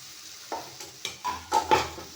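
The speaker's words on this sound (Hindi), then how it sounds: "अब इसमें साबूदाना डालेंगे।" Sago pearls get stirred into cooked tomatoes in a pan, making a few close scraping and clinking strokes of a spoon against metal over a soft background sizzle, with no talking.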